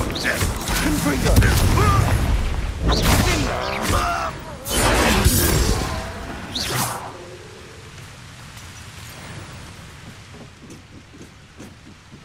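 A Confringo explosive fire spell cast in the video game Hogwarts Legacy, a loud burst with crackling, whooshing bursts amid heavy combat noise and speech, fading into quieter rumble.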